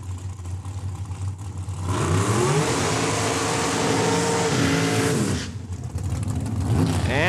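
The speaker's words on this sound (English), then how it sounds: "And side-by-side burnouts, Travis McBain out of Saskatoon" Drag race cars roar through side-by-side burnouts at Saskatchewan International Raceway, engines revving hard in a sustained loud blast, rising harmonics sweeping up over several seconds before dropping back, with crowd and track ambience around.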